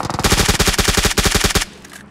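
Rapid automatic gunfire from PUBG Mobile gameplay, a loud, dense burst of evenly spaced shots lasting about a second and a half before cutting off, with no voices over it.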